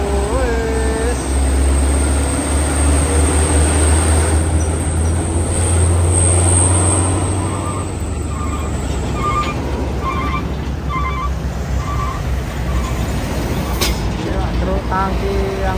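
Heavy road traffic with a Mitsubishi Canter truck overtaking a Super Grid bus, loud engine rumble and tyre roar passing close, then fading into steady traffic noise with speech over it.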